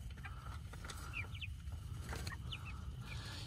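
Cornish Cross meat chickens out on grass in a mobile pen, soft scattered clucks and short chirps at moderate distance over a low, constant background rumble.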